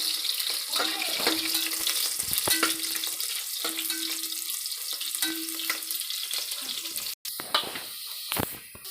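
Green chillies frying in a pan until golden, with a steady sizzle and crackle running throughout and a few light metallic stirring clinks and taps; no one speaks.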